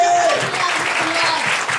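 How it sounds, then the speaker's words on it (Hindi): Loud, dense applause from a church congregation rolls on steadily for a short burst, with a voice faintly audible beneath the clapping. "जोर से ताली बजाइए"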